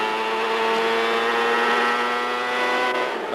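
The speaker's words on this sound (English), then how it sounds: "Listen to the engine as he accelerates out. Look for the gear change here." A 1998 CART open-wheel race car at the Madison oval screams as it accelerates, its high engine whine climbing steadily in pitch before a sharp drop at the gear change, loud and close with no talking.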